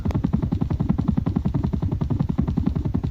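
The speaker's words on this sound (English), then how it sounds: "Sounds like a helicopter." Rapid rhythmic low thudding like helicopter rotor blades in the video game Terraria, a steady loud chopping pulse sustained throughout with no voices.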